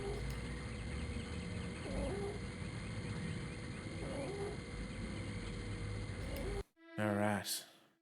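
A camera in the spy game Spycraft: The Great Game gives off a pigeon-like cooing over a low ambient hum. Near the end it cuts to a short, louder warbling burst.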